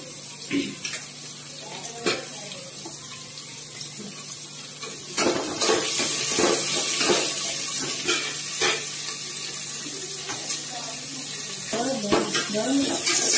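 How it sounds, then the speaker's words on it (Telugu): Onions with coriander leaves frying in a pan for potato kurma, a steady soft sizzle with stirring scrapes and occasional clinks of a utensil against the pan, close by, with a voice speaking at moments. "ఇలా బాగా వేయించుకోవాలి"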